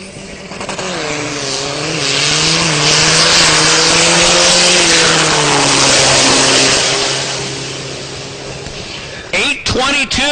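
A diesel drag race truck launches from the left lane at the Texas Motorplex, its engine roaring loud and close with a pitch that rises, wavers and eases off. The roar cuts out near the end, followed by a few brief bursts.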